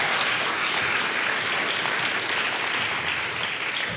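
An audience claps steadily and loudly for presenters at a division staff presentation event, dense sustained applause lasting several seconds without letting up.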